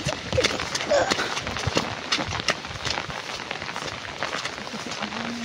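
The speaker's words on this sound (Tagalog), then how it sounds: "Sa ano, sobrang lakas ng ulan mga lods." Heavy rain pours down outdoors, a dense, steady patter with sharper drips and splashes hitting nearby surfaces throughout.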